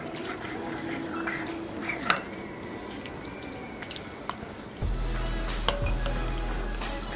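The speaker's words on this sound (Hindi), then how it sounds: "इसको अच्छी तरह से मिक्स करेंगे।" Condensed milk and milk stirred together in a bowl, with a spoon clinking and scraping against the sides over a faint liquid slosh. A steady low hum joins partway through.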